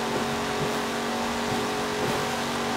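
A 1970 Chevrolet Chevelle SS with a six-speed gearbox, driven stock in Forza Horizon 4, pulls hard at high speed, its engine droning loud and steady with a constant tonal whine.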